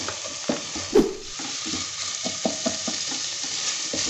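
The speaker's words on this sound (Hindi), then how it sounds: "इसको हम तकरीबन 3 मिनट के लिए हम इसके साथ फ्राई करेंगे।" Carrots frying in oil in a pan, a steady close sizzle with a few spatula scrapes and knocks against the pan, no voices.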